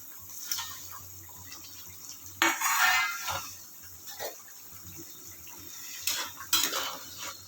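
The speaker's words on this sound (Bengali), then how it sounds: "এবার আমি ভাজা মাছগুলো দিয়ে দিচ্ছি।" Fried hilsa pieces drop into a pot of boiling curry with bottle gourd, giving clattering utensil knocks, splashes and brief sizzling bursts among quieter bubbling, close and fairly soft.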